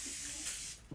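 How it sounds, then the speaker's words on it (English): An Evian facial water spray mists steadily onto a face at close range, a continuous soft hiss lasting most of a second before tapering off. "I'm gonna go ahead and spray it on my face"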